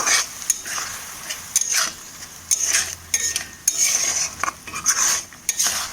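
A metal spoon scrapes and clinks against a pan while a coriander, cumin, ginger and chilli spice paste is stirred for Bengali crab curry, irregular close knocks and scrapes over a faint sizzle.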